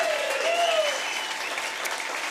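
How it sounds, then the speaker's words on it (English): An audience at a farm gathering claps for Andrew Gilmer and his family, a steady wash of many hands throughout, with a brief whistle or whoop near the start. "Give them a big round of applause"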